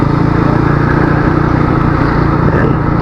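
A bored-up Yamaha NMAX scooter engine runs at a steady low idle with its auxiliary cooling fan on, a dense continuous drone with an even buzzing pulse throughout, loud and close with no voices.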